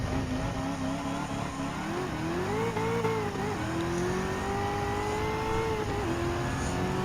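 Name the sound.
Corvette car engine racing in Gran Turismo 7 video game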